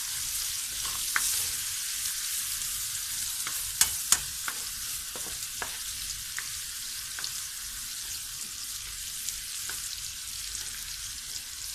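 Mutton karahi kabab frying in spices, a continuous close sizzle with sharp clicks and taps of the stirring spoon scattered throughout, loudest in a couple of quick knocks near the start.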